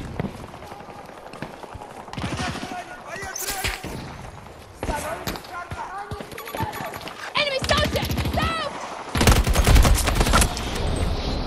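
Repeated gunfire bursts in the video game Battlefield 2042, Stranded map in a 128-player Conquest match, with rapid automatic volleys clustered through the clip, growing louder and denser toward the end, mixed with shouted in-game voice callouts.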